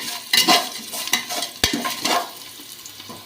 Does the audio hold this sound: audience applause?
no